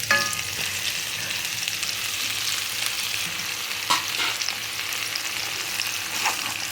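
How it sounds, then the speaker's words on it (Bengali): Jaggery is stirred into raw mango pieces cooking in oil, with continuous sizzling and scraping stir strokes heard up close and no talking. "এখন গুড়টাকে ভালো করে আমের সঙ্গে মিশিয়ে নিচ্ছি"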